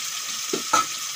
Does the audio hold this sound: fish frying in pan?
yes